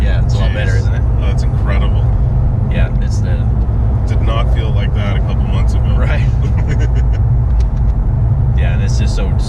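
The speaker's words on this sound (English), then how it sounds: "as soon as we grabbed second, the car was just, just going" An 800 hp twin-turbo Ford Mustang GT350 accelerates hard, its engine giving a loud, continuous roar heard from inside the cabin while people talk over it.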